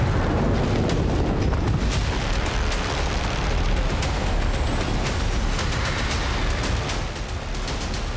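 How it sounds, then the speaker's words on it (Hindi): A massive, sustained roar and rumble from an Iranian missile explosion, loud and dense with no distinct individual blasts, continuing without a break. "युद्ध में ईरानी मिसाइलों ने जो धमाका किया उसने सुपर पावर मुल्क अमेरिका को भी हिलाकर रख दिया।"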